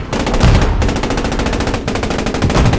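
A tank machine gun in Post Scriptum fires long, loud, rapid bursts of rattling shots, broken by a brief pause between the two strings.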